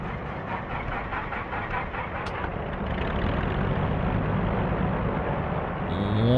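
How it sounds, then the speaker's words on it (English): Twin engines of a BN-2 Islander spooling up one after the other in a flight simulator game, a steady broadband rumble building louder with a rising whine near the end, with no talk over it. "2 good engine starts there."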